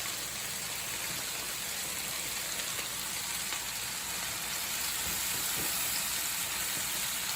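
Cabbage fries with kielbasa in a pan, giving a continuous, even sizzle and crackle that stays steady from start to finish, with no talk.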